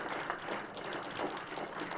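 An audience at a university event applauds to welcome the faculty of management, a soft, steady wash of many hands clapping heard from some distance, with no voices over it.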